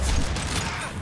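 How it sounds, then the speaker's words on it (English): Heavy gunfire in the video game Mass Effect 2: a dense, continuous wash of rapid shots and impacts, loud and unbroken through the short moment, with no clear gaps between reports. "Taking heavy fire!"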